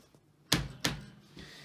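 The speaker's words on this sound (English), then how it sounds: "Let me play the bass drum as well." Bass drum fitted with a quiet mesh head in a small apartment, two soft, dull thumps about a third of a second apart, then a fainter third tap, muted with little ring.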